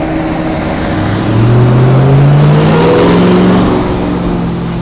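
A Honda Prelude engine idles and revs, a steady loud drone whose pitch climbs in a smooth rev before settling back, heard up close with no talking.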